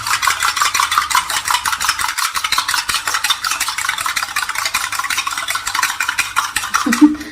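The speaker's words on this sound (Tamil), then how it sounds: "இதில் உப்பு போட்டு நல்லா உடச்சிக்கிறது" Eggs beaten with salt for an omelette, a fork or spoon clattering rapidly and steadily against the bowl in a fast, even rhythm, close and loud throughout.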